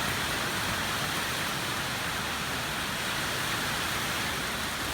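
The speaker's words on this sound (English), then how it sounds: "it's pouring down rain and lightning" Heavy rain pouring down in the woods during a thunderstorm, a constant even hiss of dense downpour with no breaks, steady and fairly distant.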